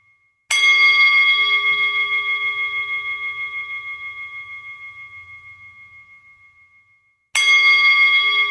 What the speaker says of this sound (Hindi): घंटी बजती एक बार है, उसके प्रकंपन लंबे समय तक चलते हैं।